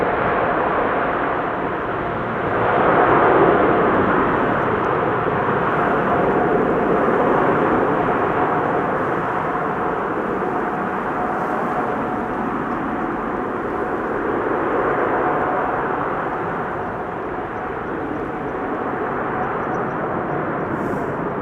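An airliner landing at Amsterdam Schiphol with its thrust reversers deployed gives a loud, steady broadband roar that swells early on and holds for the full stretch, with no voices.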